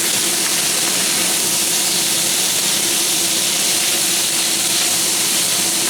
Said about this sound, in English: Dust it in flour, and then quickly saute it in this wok-style